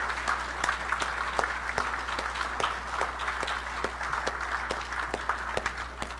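At a university presidential investiture ceremony, an audience gives a steady round of applause, moderately distant, with sharper individual claps standing out over a continuous low hum.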